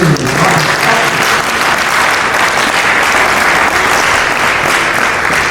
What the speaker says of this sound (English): I think we need to give him a round of applause